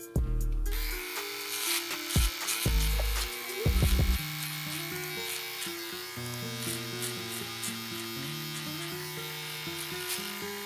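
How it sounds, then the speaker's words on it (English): An electric shaver buzzes steadily while trimming a beard, its pitch shifting as it moves, with brief bursts and gaps early on, close and continuous with no talking. "Now follow up with the shaver."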